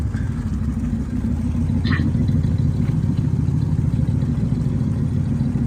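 A V8 430 car engine with automatic transmission idles steadily with a low, even rumble, running alone at a constant level with no voices.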